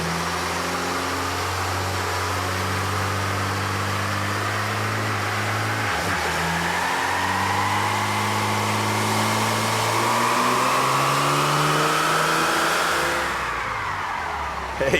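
A Ram diesel truck engine on a dyno, boosted with propane and nitrous, roars loudly through a long full-throttle pull, its pitch climbing steadily before the engine note drops off abruptly near the end.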